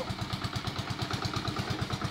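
A motorcycle engine rumbles steadily at close range with a fast, even chugging pulse and a light mechanical clatter. It sounds like motorbikes passing on a roadside, with no talking.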